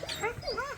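A sheepdog on a sheep farm whimpers in short, wavering high whines, close by, briefly heard with a voice speaking over it.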